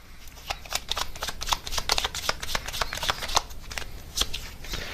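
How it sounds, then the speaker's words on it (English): Advice cards are shuffled and drawn by hand, with dense, close, rapid riffling and flicking bursts running steadily throughout, no voices. "I might just get you guys a few more advice cards"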